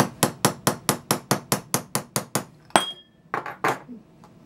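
A tool is tapped through metal to punch a hole for a homemade oil lamp, giving about a dozen evenly spaced, sharp metallic taps in a quick steady rhythm, followed by a few looser clinks and knocks, close by and without talk.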